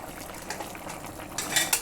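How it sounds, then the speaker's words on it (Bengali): Fish curry being stirred in a cooking pot, with soft scraping and clinking of a utensil against the pot, growing louder with a few sharper clatters near the end, no voices. "মাছগুলো দিয়ে নাড়াচাড়া দিব।"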